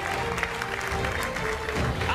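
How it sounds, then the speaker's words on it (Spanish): An audience claps loudly on a TV game show, a dense burst of applause from a crowd with voices mixed in. "fuerte el aplauso por aproximación."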